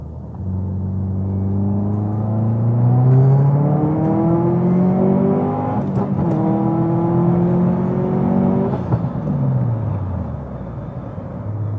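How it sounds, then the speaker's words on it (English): A Subaru STI fitted with a Blouch turbo accelerates up an on-ramp, engine pitch climbing steadily through the gears with brief dips at the shifts, loud, close and continuous with no talk. "Turbo spool is great."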